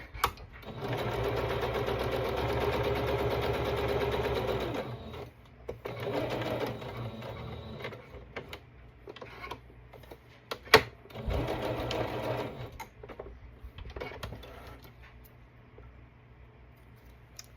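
A sewing machine stitches fabric, catching a dotted Swiss piece, in several bursts of rapid mechanical whirring. Clicks and pauses fall between the runs, and the stitching trails off into quieter handling sounds.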